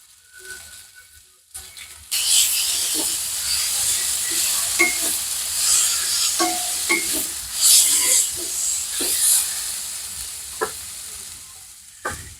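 Tadka of spice masala and salt frying in a home kitchen, a loud steady sizzle that flares up after a short quiet start and crackles on with scattered pops and stirring scrapes.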